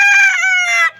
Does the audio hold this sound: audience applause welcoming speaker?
no